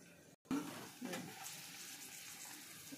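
Onions frying in a pan for a fish curry, a steady moderate sizzle with a brief sharp burst of spattering near the start, close by and continuing throughout with no talk over it.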